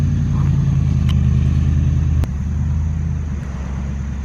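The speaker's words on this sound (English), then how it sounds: "I made Steffi go get the truck and for some reason she's like off-roading in the backyard." A truck driving off-road through a backyard, its engine droning steadily nearby, then easing back slightly after a sharp knock midway.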